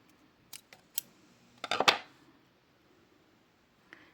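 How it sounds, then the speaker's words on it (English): Scissors snip off the end of a thread on a knotting project closed with a culotte, giving a couple of crisp, close cuts amid light handling clicks, then quiet. "snip off the end of this thread"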